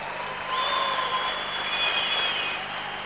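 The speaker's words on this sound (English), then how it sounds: "Can you give them a round of applause?" An audience at the ICON 2012 event gives a round of applause for new core team members. The clapping is moderate and fairly close, with a faint tonal ring running through it.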